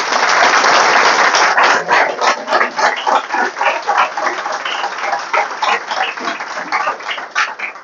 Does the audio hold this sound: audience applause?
yes